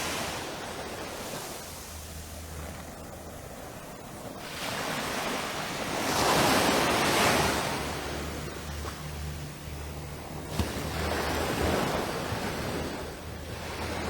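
Waves breaking on a beach at Prospect, Barbados, a broad washing roar that swells and falls in slow surges, loudest midway and again near the end, with wind buffeting the microphone.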